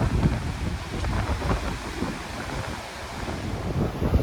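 Sizable sea waves breaking on the shore at Olhos de Água near Albufeira in the Algarve, Portugal, a steady broadband wash with wind buffeting the microphone throughout, no voices.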